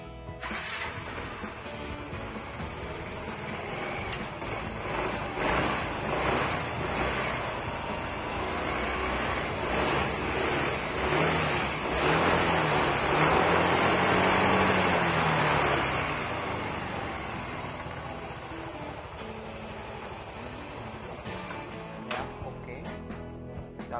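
A Yamaha Mio M3 fuel-injected scooter engine cranks and starts, then runs with a rising and falling buzzing drone that swells mid-way before settling, heard close in a workshop.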